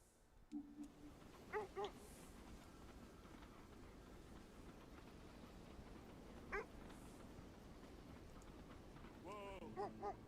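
A dog in the video game Kona 2: Brume gives a few short, faint yips and barks, spread out over a steady low ambient hum, with no talking.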